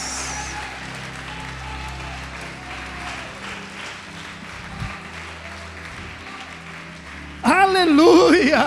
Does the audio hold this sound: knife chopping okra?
no